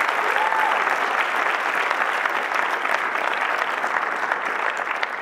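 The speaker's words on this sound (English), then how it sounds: "Maybe an extra clap for that." Guests at a church wedding clap warmly after the vows, a full, continuous round of applause at steady volume that fades slightly toward the end, with no talking.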